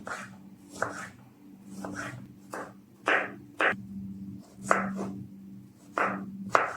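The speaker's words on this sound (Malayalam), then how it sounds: "അങ്ങനെ പൂളി കൊടുക്കട്ടെ രണ്ട് സൈഡും ചെറുതാക്കി കട്ട് ചെയ്ത് കൊടുക്കേ" A knife chops mango into small pieces for pickle on a cutting board, giving sharp irregular knocks in loose bursts, close up, over a faint steady background hum.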